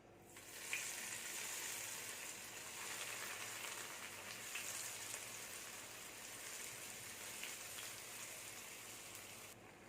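Bread slices fry in hot sunflower oil in a pan, giving a steady, faint sizzle with soft crackles and pops that runs evenly throughout, with no talking.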